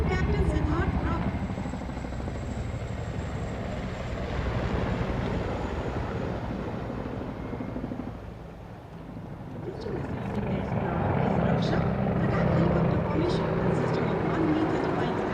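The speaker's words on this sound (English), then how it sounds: "1 मी-35 और 4 Apache helicopters Wick formation में उड़ान भरते हुए" Mi-35 and Apache helicopters flying in a vic formation over a parade, a steady, loud rotor and engine roar that dips briefly midway before swelling again, with no talk over it.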